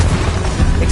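A Confringo blasting spell explosion in Hogwarts Legacy, during a fight with a troll titan boss, booms as a loud, heavy, rumbling blast that fills the whole moment.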